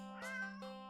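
A standard black cat in a video game meows twice, close and clear, a short harmonic call followed by a second softer one over a steady electronic hum, with no talk.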